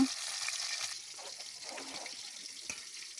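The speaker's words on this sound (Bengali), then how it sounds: "মাছগুলো ভেজে নেব।" Tilapia fish fry in a pan with a soft, steady sizzle and a few faint clinks, all quiet and close with no talking.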